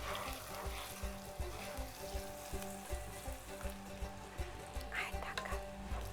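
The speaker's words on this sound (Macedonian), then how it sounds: "И истото масло ќе го истурам од озгора." Hot oil is poured over pork meat in a pan, crackling and sizzling faintly with a busy run of pops and small knocks.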